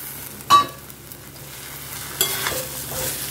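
Potato pieces go into oil with a cooked paste of onion, garlic, ginger, tomato and turmeric, giving a faint sizzle. A sharp clatter lands early, and softer stirring rustles follow near the end.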